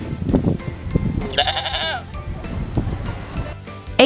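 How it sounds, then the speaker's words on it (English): A goat gives a single wavering bleat midway through, heard close and clear among other brief knocks and sounds. "G for goat, with tiny feet."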